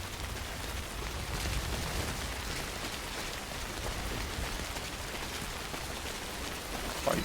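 Rain in the video game Death Stranding falls as a faint, even patter and hiss, continuous throughout with no voices.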